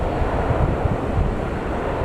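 A Jet2 airliner arriving at Newcastle Airport gives a steady, distant engine roar mixed with wind rumble, continuous and fairly loud throughout.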